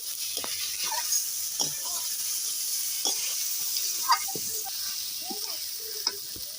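Tiger prawns and fried potatoes stirred through sizzling masala in a pan, a steady soft hiss broken by occasional scraping strokes of a spatula, no talking.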